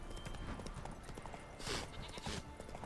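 Horse hooves clip-clop in a steady trotting rhythm in The Witcher 3: Wild Hunt, soft and low under faint background game sound.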